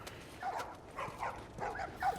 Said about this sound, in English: These dogs are all accounted for.